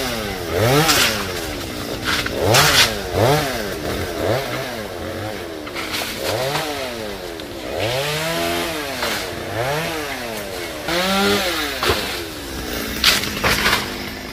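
A chainsaw cutting an oil palm tree revs up and down repeatedly, its engine whining and bogging as it bites into the trunk, loud and close throughout.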